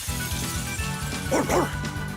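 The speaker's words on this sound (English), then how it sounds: "You tell him, Rapide, my pipe-smoking dog" A dog barks in the video game Tales of Vesperia, two quick close yips heard over steady game music.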